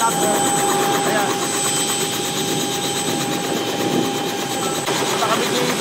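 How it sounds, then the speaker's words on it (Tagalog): A presidential helicopter's engine and rotors whine in a steady, loud drone with a high tonal whistle through the whole stretch, sounding close at hand. "Presidential helicopter."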